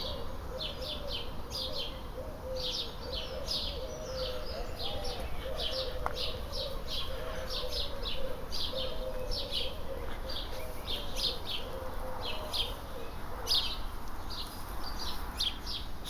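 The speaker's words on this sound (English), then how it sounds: "It's a bit noisy with all these bloody birds like." Several birds chirp and tweet continuously in an early morning garden at dawn in April, with some cooing pigeon- or dove-like calls low underneath, steady and moderately distant throughout.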